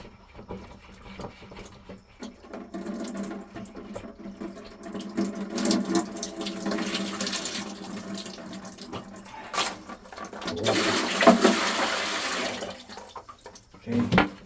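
Water running and splashing out of a Waterdrop filter housing as the old cartridge is pulled during a filter replacement, a steady close trickle that swells louder near the end, with brief talk mixed in.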